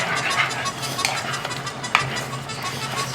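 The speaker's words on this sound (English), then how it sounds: "At this point, you stir it up and you turn the temperature down." A spoon stirring a pot of simmering beans with cheese, soft scraping and wet churning with a few light clinks against the pot, over a low background hum.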